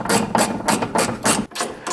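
A ratchet loosens a nut on the front suspension of a Toyota Tacoma, giving about seven quick, evenly spaced metallic clicking bursts up close, with one brief pause before the last.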